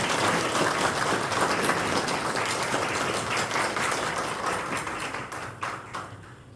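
An audience at a formal presentation ceremony applauds in congratulation, sustained dense clapping from many hands that thins out and tapers toward the end.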